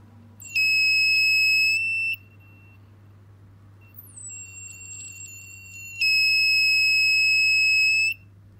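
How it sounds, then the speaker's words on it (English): An electronic buzzer driven through a potentiometer gives two loud, steady high-pitched tones lasting about two seconds each, with a quieter, shifted-pitch tone between them as the resistance changes, over a low constant hum. "As I change the resistance of the potentiometer, it changes the amount of current flowing through the buzzer and it makes different sounds."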